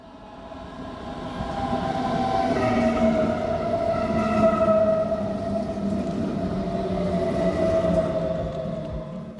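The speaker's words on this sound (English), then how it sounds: "I took the train from Munich to the airport" Steady train ride from Munich central station to the airport, with a continuous rumbling of wheels on rails and a sustained tonal whine that holds throughout the interior of the moving carriage.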